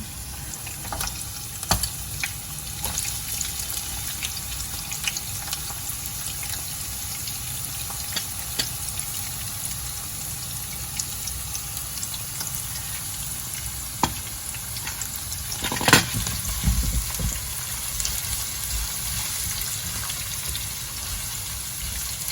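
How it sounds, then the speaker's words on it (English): Sliced red onion fries in a pan as part of a chicken curry, giving a steady soft sizzle throughout with occasional stirring clinks and one louder scrape near the end, and no voices. "Fry it until it's a little bit yellow. Our onion is a little bit golden, change color already."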